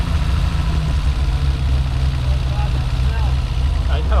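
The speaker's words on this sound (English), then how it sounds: "Doesn't want to idle worth a shit" A BMW E30 engine fitted with individual throttle bodies idles roughly, a loud, close, continuous low rumble that holds steady throughout.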